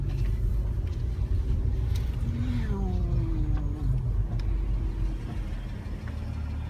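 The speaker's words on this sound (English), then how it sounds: "Driving my car." A sheriff's deputy's car driving, with a steady engine and road rumble throughout and a brief rising engine tone partway through, heard from close by without talk.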